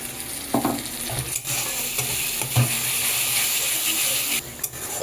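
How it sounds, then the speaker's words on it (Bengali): Soaked spice paste being fried and stirred into an onion and tomato gravy in a pan, a steady close sizzle with scraping stirs throughout. "এইবার এই যে পেস্টটাকে ভিজিয়ে রেখেছিলাম আর টমেটো আর পেঁয়াজ সবগুলোকে ভালোভাবে একটু কষাবো"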